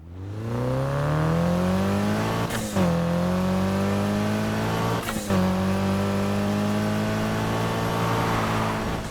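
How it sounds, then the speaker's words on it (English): A Mitsubishi Lancer Evolution X engine in the racing game Need for Speed Heat revs steadily with a rising, buzzing tone, briefly dipping twice as if shifting gears, loud and continuous throughout. "Is this what a stock Evo 10 sounds like?"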